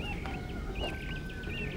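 Chickens clucking in an Indonesian Si Doel sitcom scene, several faint repeated clucks over a steady background hum, with no talk.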